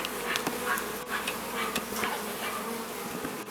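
Bees buzzing around hives at a professional beekeeper's apiary, a dense steady hum of many insects with individual buzzes passing close, continuous throughout and free of talk.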